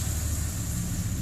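A stock pickup truck with about 33,000 miles idles steadily, a continuous low engine rumble with no breaks, heard up close.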